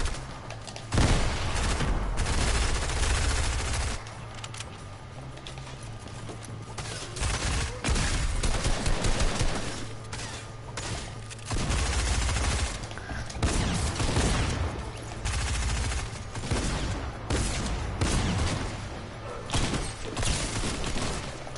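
Rapid bursts of gunfire from a solo arena shooter video game crackle in repeated volleys and thumps, loud and dense throughout with short lulls between exchanges.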